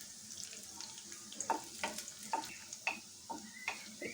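Chopped garlic and onion fry quietly in a kadai for kadai chicken, a faint low sizzle. A spoon scrapes and clinks against the pan in short, repeated strokes.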